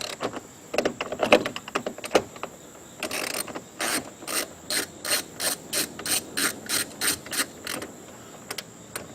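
A hand ratchet with a 10mm extension loosening bolts on a Suburban door during actuator replacement, with scattered clicks and clatter followed by a regular series of quick, close ratcheting bursts.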